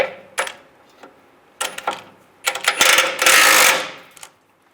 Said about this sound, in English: using a 21 millimeter wrench on the back side and a 21 millimeter socket